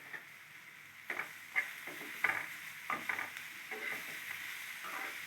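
Chopped tomatoes cook down in a pan, a soft faint sizzle under a run of spoon scrapes and light taps roughly every second, close by and with no talking.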